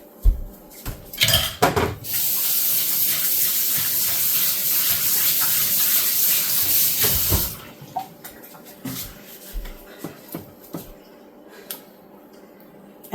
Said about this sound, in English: so now we're going to take this bowl and rinse it out